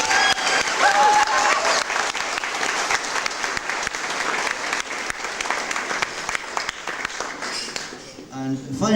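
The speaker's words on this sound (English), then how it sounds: "So a big round of applause." A large audience at an evening community event claps steadily for about eight seconds in a dense, continuous burst of applause that thins out and fades near the end.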